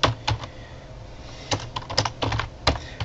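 Clicks and taps of a computer keyboard as an event title is typed, short bursts of keystrokes with pauses between them, close and clear with no talking.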